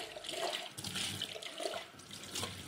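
Dendrobium discolor orchid seedlings, fresh out of their flask, get washed in water, with soft continuous splashing and trickling close by at low volume and no voices.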